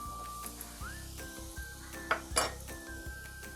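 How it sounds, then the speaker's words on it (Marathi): Masala spices dropped into hot oil in a pot for a mudskipper fish curry, with a quiet sizzle, light metallic clinks and scrapes of a spoon against the pan, and a faint tonal hum in the background. "तेल आपलं तापलं आहे त्याच्यामध्ये मसाला टाकते"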